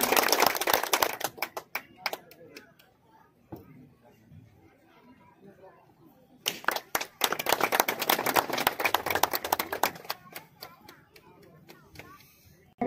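Crowd applause for a recruit at a police passing-out parade, dense rapid clapping that fades into a quieter lull and then swells again loud and sustained before tapering off.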